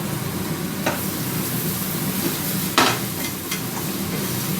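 Mushrooms fry in a pan with a steady low sizzle, broken by a few sharp clicks and knocks of a utensil against the pan.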